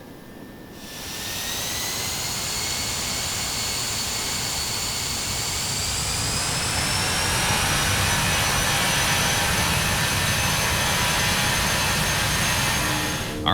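Douglas DC-8 jet engines spooling up on a takeoff roll in the FSX flight simulator, a loud sustained roar with rising whine tones that grows steadily stronger and runs continuously without speech.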